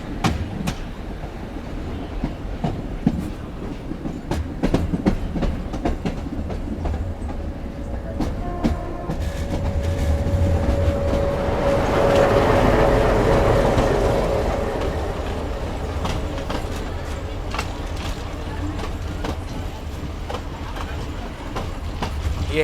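A meter gauge Veravel–Amreli passenger train sits at Talala Junction station near the Gir forest, giving a steady rumble with clicks and a rising hum. Someone speaks over it.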